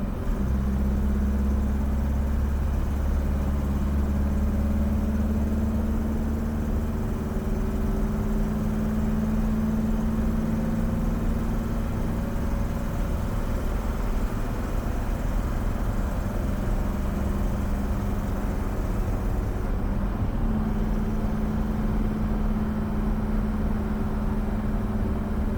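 Chevy S10 pickup fitted with a VW diesel engine running on the road, a steady low engine drone with slight shifts in pitch, continuous and fairly close, no voices.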